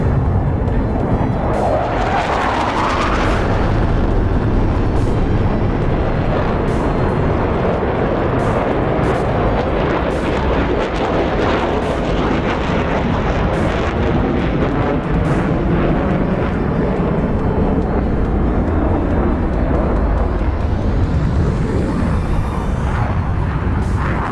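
Aerobatic aircraft roaring through the sky at the Pençe air show in Adana, a loud, sustained engine drone with shifting pitch and sharp repeated crackles throughout.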